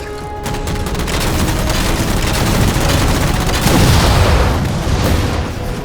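Dense, continuous gunfire and booming blasts from the Halo 4 video game as jammers are shot down, loud and sustained with rapid overlapping shots throughout.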